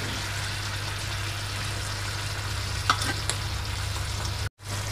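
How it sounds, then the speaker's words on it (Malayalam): Soy sauce poured into chicken frying in a pan for a dry chicken dish, a steady close sizzle with a few brief splashy bursts near the end and a short cut-out just before it finishes. "ഇനി ഇതിലേക്ക് നമുക്ക് സോയ സോസ് ആണ് ഒഴിച്ചു കൊടുക്കുന്നത്."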